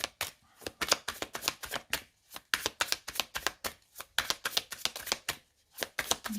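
Tarot cards being cut and shuffled by hand, a quick run of crisp, papery flicks and taps in an uneven rhythm, close and alone.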